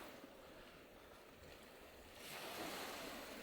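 Waves wash onto an Arctic beach, a steady broadband surf roar that swells louder about two-thirds of the way through, with some wind noise and no voices.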